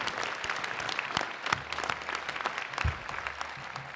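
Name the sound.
audience applause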